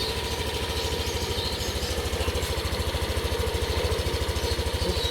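A Yamaha Aerox 155 scooter engine idles steadily just after an oil change, its close, even low putter running alone without change in pace.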